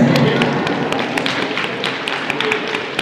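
A crowd at a Janmashtami program taps three fingers against their palms, building a thick, continuous patter of overlapping taps that sounds like steady rain filling the hall.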